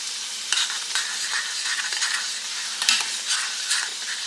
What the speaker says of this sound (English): So I will be using this spoon while I'm cooking.